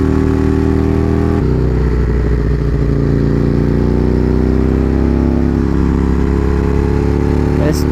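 Aprilia Tuono motorcycle riding through bends, a loud steady engine drone with sustained tonal hum rising gently in pitch, heavy rushing wind, continuous throughout, with a brief clatter near the end.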